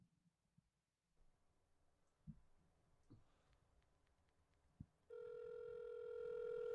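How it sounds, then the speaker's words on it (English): A telephone rings in a played-back recording, starting partway through as a steady, loud electronic tone after quiet clicks and thumps. "Oh, we even get the Phone ring."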